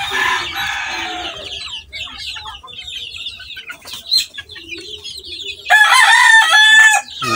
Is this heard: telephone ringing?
no